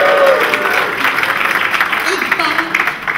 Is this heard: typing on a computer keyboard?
no